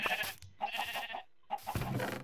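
Sheep bleating in a farm video game, a few short wavering bleats at close range, alone with no talk.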